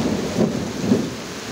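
Heavy rain pouring down in a storm at San Jose Del Monte, Bulacan, a steady loud wash of rainfall with low rumbling thunder swelling beneath it, alone without talk.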